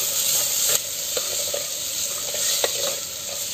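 Onion and tomato sizzle and fry in a pan over a wood-fired stove, with a steady hiss and a few soft stirring scrapes throughout.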